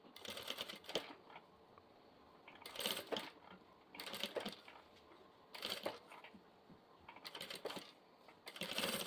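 Sewing machine stitching a zipper onto a half-moon zip pouch without a zipper foot, running in several short bursts of close mechanical whirring with pauses between them.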